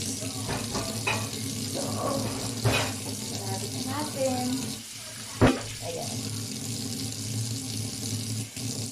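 Dishes being washed at a kitchen sink under a running tap: a continuous close water hiss with scattered clinks and one sharp clatter, a voice speaking over it at times.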